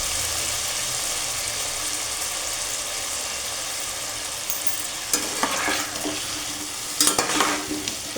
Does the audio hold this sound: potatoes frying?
yes